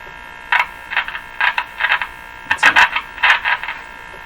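A 1935 Rogers Model 7R622 tube radio on shortwave, suspected of dirt in a capacitor, gives a steady hum broken by repeated bursts of crunchy crackling static, irregular and fairly loud, with no voices.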